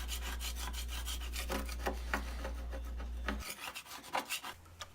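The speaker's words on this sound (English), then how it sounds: "if I try to scrape off the paint as is, it's actually very difficult to do" Old, soaked-in paint being scraped off a wooden board, a series of rhythmic rasping strokes repeated steadily, close and fairly quiet, with a low electrical hum beneath the first part.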